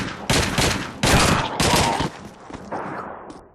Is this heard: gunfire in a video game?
yes